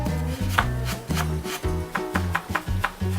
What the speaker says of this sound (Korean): 고기는 다져줍니다